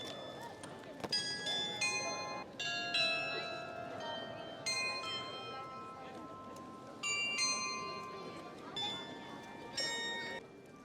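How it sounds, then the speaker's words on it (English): Small bells chime in a lively cluster of bright ringing strikes that come in bursts, moderately near, over a steady background hum with people talking faintly. "The bells are actually chiming."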